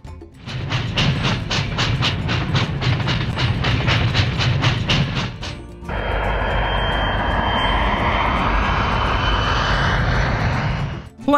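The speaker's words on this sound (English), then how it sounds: "Plane." A loud, steady engine roar with a rising whine, like an airplane running up, preceded by a rhythmic rolling clatter.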